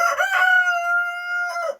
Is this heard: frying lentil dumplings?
no